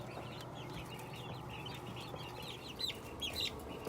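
Ameraucana chickens cluck softly and steadily in a coop, with a few brighter calls rising near the end over a constant low background murmur.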